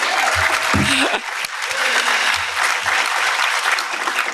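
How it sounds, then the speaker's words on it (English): An auditorium crowd at a county address applauds the Saugerties girls ice skating team, loud, continuous clapping filling the room, with a few low thumps and a brief voice near the start. "I just think we have to have a round of applause for the Saugerties Phillies girls ice skating team"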